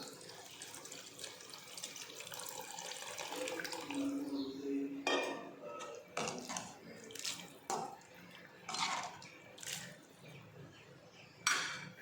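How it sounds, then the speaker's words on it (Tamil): Strained tamarind water pours and splashes into a pot amid clinks of metal cookware, with several short clattering bursts near the end. "இப்போ புளி நம்ம கரைச்சி வடிகட்டி வச்சுருக்கோம், அந்த தண்ணியை ஊற்றிக்கலாம்"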